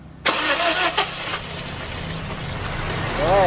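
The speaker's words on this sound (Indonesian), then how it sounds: "ini yuk kita coba hidupkan dulu mesinnya. Yo, starter yo." A petrol Toyota Innova cranks and its engine catches after a short silence, settling into a loud, close, rough running note with a low steady hum underneath; a brief rising whine appears near the end.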